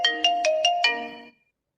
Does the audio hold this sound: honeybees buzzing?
no